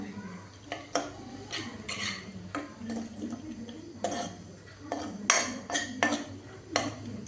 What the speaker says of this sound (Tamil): இப்போ முந்திரி போட்டு வறுத்துக்கலாம்.